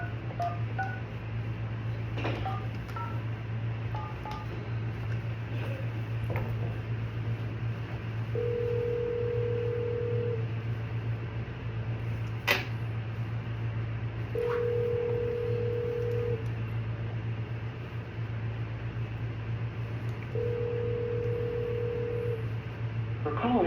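A telephone call ringing on the line: a few dialing beeps early on, then three long, evenly spaced ring tones over a steady low electrical hum.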